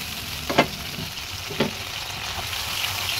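A paste of tomato, green chili and ginger fries in a pan with a steady close sizzle, broken by two brief louder stirring scrapes.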